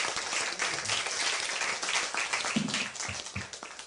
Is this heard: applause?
yes